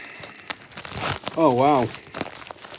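Parcel packaging torn and forced open by hand without scissors, crinkling and ripping in short bursts close up, with an excited voice exclaiming partway through.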